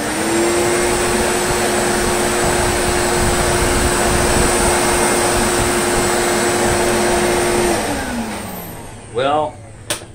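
A vacuum cleaner runs loudly and steadily on a thick doormat, a constant whooshing roar with a whine that drops away near the end as it powers down, followed by a couple of soft clunks.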